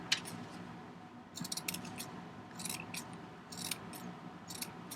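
Scissors trim a knitted yarn pom-pom, making repeated close, quiet snipping cuts in short clusters of several snips each, with no voices.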